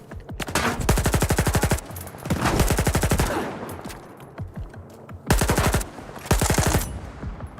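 Automatic rifle fire in the shooter game S.T.A.L.K.E.R. 2 rattles in loud, rapid bursts, four or five sustained strings of shots separated by short pauses.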